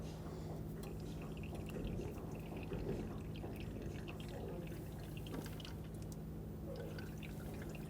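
Brake fluid trickles and drips into a collection hose while the brakes of a 2000-2005 Ford Excursion are bled, a faint, continuous liquid patter over a low steady hum.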